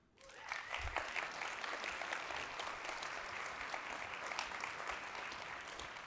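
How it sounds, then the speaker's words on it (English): A conference audience at FEECon breaks into loud, sustained applause that starts abruptly and holds steady to the end, with a dense wash of clapping hands and no talk over it. "Let's give them a round of applause."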